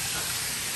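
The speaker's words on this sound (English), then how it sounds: "my fish are frying nicely" Red snapper coated in all-purpose flour deep-fries in a pan, giving a steady, close hiss and sizzle of hot oil in a short burst.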